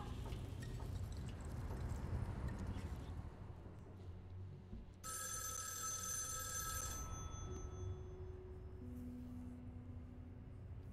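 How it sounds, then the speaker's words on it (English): An old-fashioned telephone bell rings in a video game, a bright metallic trill bursting in at mid-volume over a steady low background hum, then stopping as a softer tone follows. "That's an old-timey phone."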